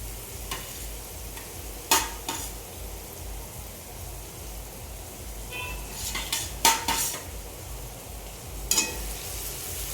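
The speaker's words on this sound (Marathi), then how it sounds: "कांदा छान लाल करून घेऊया. कांदा छान परतवून घ्यायचा आहे." Onion sautéing in a pan gives a soft, steady sizzle, broken by a few sharp clinks and scrapes from a stirring spoon against the metal, close by with no talking.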